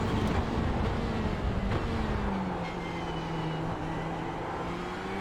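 A Ferrari GT race car in the iRacing simulator roars past at speed, a loud engine drone whose pitch slides downward as it goes by, then holds a steady fading hum with no talk.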